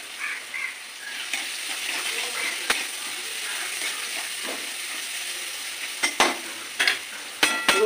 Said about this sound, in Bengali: এর মধ্যে আমি একটু রসুন ফোড়ন দেবো।